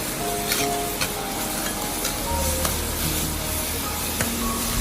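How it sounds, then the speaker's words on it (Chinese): Chopped chili paste stir-fried in a wok over medium-low heat, a loud continuous sizzle with scattered scraping strokes of the spatula, close and unbroken by speech. "开中小火，把剁辣椒炒一下，炒干剁辣椒的水分，同时将它的香味也炒出来"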